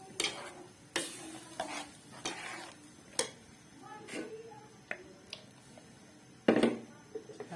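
Masala with ground tomato fries in a pan while a spoon stirs it, giving soft scraping strokes and clinks every second or so over a faint sizzle, with one louder scrape near the end.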